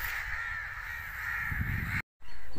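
Several crows caw steadily overhead in a village, a dense continuous chorus of harsh calls that cuts off briefly near the end before resuming loudly.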